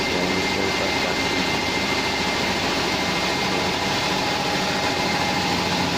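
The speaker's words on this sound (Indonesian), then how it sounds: "yang mesin kaos kaki." Inside a sock-making workshop, a sock knitting machine drones in a loud, steady, continuous mechanical whir, with a dense, unbroken hum that fills the space.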